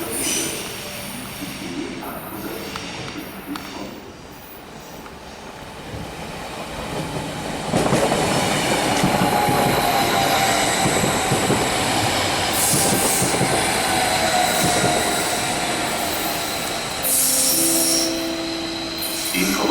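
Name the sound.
RE8 regional train at a German station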